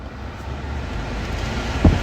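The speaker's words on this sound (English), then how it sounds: "Put air conditioning on." Air conditioning in a 2017 Mitsubishi L200 DI-D 178 Barbarian automatic pickup blowing as a steady, soft rushing of air with a low rumble underneath, no talk.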